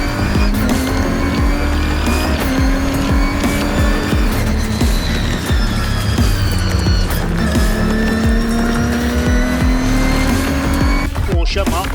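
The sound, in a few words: race cars starting Britcar endurance race at Thruxton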